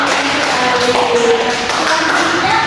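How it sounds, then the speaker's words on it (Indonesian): A classroom gives a short burst of applause for a student, with dense, continuous clapping close by and loud throughout, plus faint voices mixed in. "aplaus buat Mbak Sakina"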